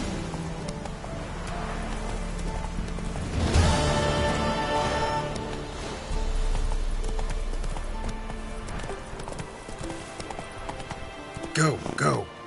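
Roach, a horse in The Witcher 3, gallops with rapid, rolling hoofbeats close by. A brief whinny comes near the end, and voices talk over the hoofbeats.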